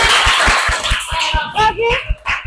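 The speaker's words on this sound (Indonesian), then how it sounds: "Boleh kasih tepukan yang gemuruh untuk Dustin." A short burst of clapping with quick rhythmic beats, while a voice speaks over the end of it.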